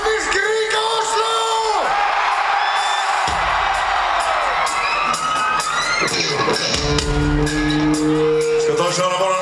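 A large arena concert crowd at Oslo Spektrum yells, whoops and cheers loudly and continuously, a dense roar of many voices filling the hall from start to finish.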